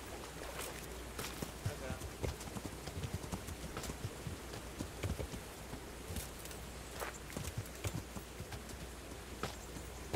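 Horse hooves clip-clopping in the medieval video game Kingdom Come: Deliverance, a repeated rhythmic patter of hoof strikes over a soft background hum.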